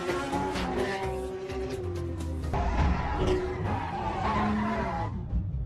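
Cars skid and squeal their tyres during a chase scene in a film about bank robbers speeding toward an airport, with loud engine roar, screeching rubber and harsh bursts close up.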